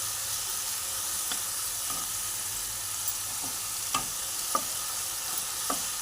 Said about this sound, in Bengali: এবার এর মধ্যে আদা লঙ্কার পেস্টটা দিয়ে দিলাম দিয়ে ভালো করে নাড়িয়ে নেব